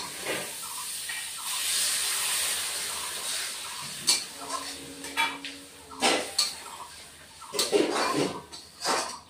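Water poured into a hot pan of tangra fish curry with nigella seeds bursts into a broad steamy hiss, then settles under intermittent metal clanks and scraping from a spoon against the pan.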